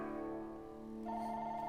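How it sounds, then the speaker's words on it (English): A phone ringtone plays loud and steady in a room, a sustained electronic tone that shifts pitch partway through, with no voices. "Oh, phone."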